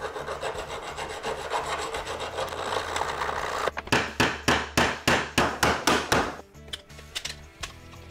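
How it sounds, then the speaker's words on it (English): A hand file works a welded clamp nib, first with continuous scraping rubs, then about a dozen loud, evenly spaced rasping strokes, ending with a few fainter passes. "I've got a file here,"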